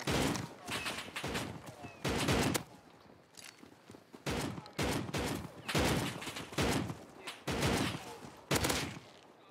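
Video game gunfire comes in repeated loud bursts of rapid shots separated by short quieter gaps, with faint footsteps between the volleys.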